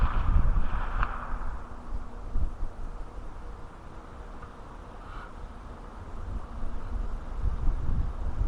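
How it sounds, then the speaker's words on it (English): Strong wind gusting at an outdoor long-range rifle shooting range, a steady rushing roar that swells and eases with buffeting on the microphone, with no talking. "That wind's really whipping right now."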